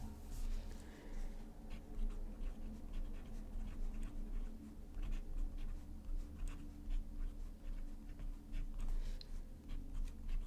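A Kaweco fountain pen with a black ink cartridge scratches across paper while doodling, producing faint, close, intermittent strokes and ticks over a quiet background.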